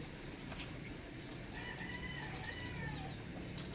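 Faint chicken clucking in the distance, a few soft rising and falling calls over a steady outdoor background hum.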